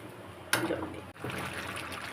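Hot water pours into a cooking pot of stalks and prawns for a brief splashing gush, then stops, then trickles again quietly under low kitchen background noise.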